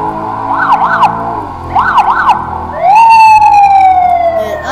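Police car siren wailing loud and close, rising and falling in quick yelps before settling into a long sweeping tone, over steady traffic and engine rumble.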